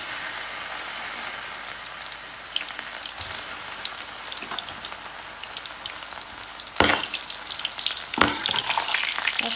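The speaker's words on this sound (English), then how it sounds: "Now I'm going to fry the elephant ear leaves bhajia." Elephant ear leaf patra bhajia fry in oil with a loud, crackling sizzle like rain on a surface, steady at first then flaring into two sharp bursts of spatter near the end; nobody speaks.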